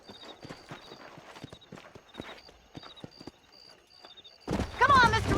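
Horse hooves clip-clop steadily in Red Dead Redemption as riders head for Armadillo, a rhythmic trot under talking voices, ending in a loud, dense burst of sound.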